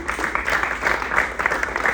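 A comedy club audience applauds in a continuous dense wash of clapping that is steady and moderately loud, with faint crowd voices underneath.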